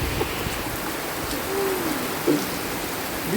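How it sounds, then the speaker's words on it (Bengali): Heavy rain falling steadily outdoors on a street, a dense even hiss throughout with no talk. "প্রচুর বৃষ্টি পড়ছে।"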